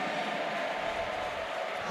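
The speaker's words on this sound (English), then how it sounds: "The crowd is now cheering on him." Crowd cheering for a returning athlete at a CrossFit Games in-person qualifier, a steady, dense wash of sustained crowd noise with no distinct breaks across the short stretch.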